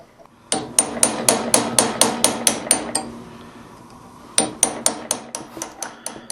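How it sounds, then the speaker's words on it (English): A narrow chisel hammered through a metal web between two drilled holes at a blacksmith's bench for a trunk lock, giving sharp, evenly spaced ringing strikes in two close, loud runs separated by a short pause. "Next I'll use a narrow chisel to break out the web in between the 2 holes and create a slot."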